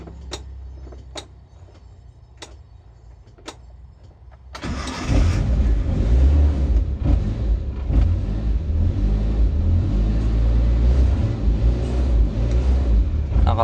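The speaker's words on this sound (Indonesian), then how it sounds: "Tapi masih bisa di starter sih. Saya coba starter dulu ya." A car engine is cranked by its starter and catches after about four and a half seconds, settling into a loud, steady idle. Short ticks and clicks come before the start.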